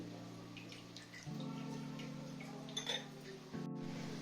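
Water is poured into a cooking pot for chicken fry biryani rice, a soft, close trickle with a faint clink, rising in two steps, against a low background hum.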